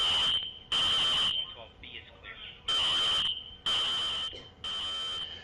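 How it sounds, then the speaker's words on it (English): A college dorm fire alarm at the University of Central Florida blares in loud, evenly spaced high-pitched tone bursts, with voices and radio chatter in the gaps. "You can hear the fire alarm blaring in the background."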